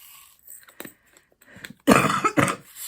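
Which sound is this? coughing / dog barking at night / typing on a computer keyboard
coughing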